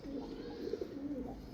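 Pigeons of the red-pari fancy breed coo softly several times, low murmuring calls rising and falling close by against a steady background hum.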